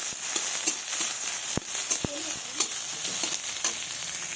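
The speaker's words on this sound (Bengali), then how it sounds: "একটু কালো জিরা দেব। দিয়ে এটাকে একটু ভাজবো।" Sliced green chilies and nigella seeds fry in a pan with a bright, steady sizzle close by, broken by a few sharp clicks and taps of a spatula, with no voices.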